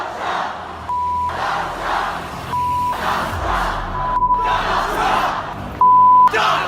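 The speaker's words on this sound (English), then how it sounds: "People filling the streets in America's cities, protesting President-elect Donald Trump." A large crowd of street protesters against Trump chants and shouts in rhythmic waves, loud and reverberant, broken by several censor-style beeps.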